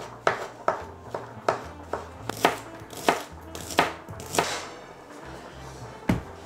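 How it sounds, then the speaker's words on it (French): A knife chops through mushrooms and shallots on a cutting board, about a dozen sharp, close knocks in a fairly steady rhythm. They are heard alone in a home kitchen, with a low hum underneath. "je découpe tout ce qui est champignons et échalotes"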